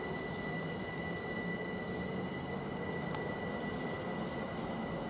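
A Class 378 electric train, unit 378222 on the Stratford to Clapham Junction service, passes at Imperial Wharf with a steady rolling rumble and a sustained whine from its traction motors, held at an even level throughout.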